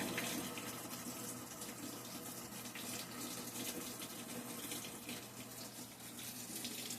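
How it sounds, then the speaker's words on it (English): A faulty Whirlpool top-load washer, model WTW4816FW3, fills with water for its rinse cycle, giving a steady, faint rushing flow with no voices. "So I hear water, so no doubt it's going to rinse"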